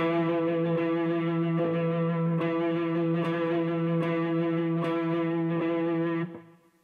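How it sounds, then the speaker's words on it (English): Electric guitar sustaining a held note shaped by wrist vibrato, with a few fresh picked attacks along the way, a gently wavering pitch and a slight effects-processed edge before the note fades out at the end. "This is wrist vibrato."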